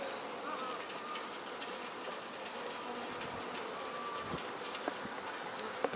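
Bees from a hive buzz continuously near a giant Japanese hornet trap in late October, a steady dense outdoor hum with faint scattered clicks and no talk over it.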